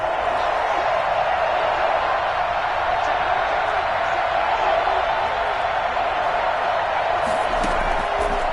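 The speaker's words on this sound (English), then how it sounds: "the crowd getting into it as we come up on a big 3rd down" Steady stadium crowd noise in Madden 21 on PS5, a constant dense roar of many voices at a distance, unbroken and even throughout, rising slightly near the end.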